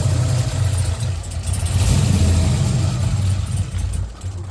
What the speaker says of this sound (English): But engine is quiet. It's quieter than my old one, which is awesome.